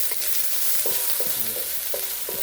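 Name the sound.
pork and imitation crab meat sauteing in a pan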